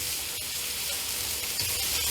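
Drained potatoes sauté in hot oil in a pan, giving a steady, even sizzle and hiss that stays close and unbroken throughout, with no talking.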